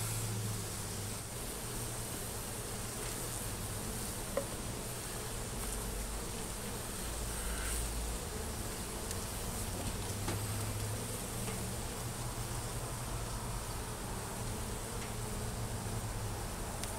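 A honey bee colony with a laying queen buzzes steadily from an open hive, a dense continuous drone of many wings held close and loud throughout, with no talking.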